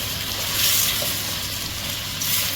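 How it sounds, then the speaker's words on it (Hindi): Ginger and garlic fry in hot oil in a pot of goat head pulao over a medium flame, giving a steady close sizzle with soft bubbling and small crackles and no talking. "थोड़ा सा जिंजर गार्लिक भी फ्राई हो जाएगा फॉर 2 मिनट्स के लिए"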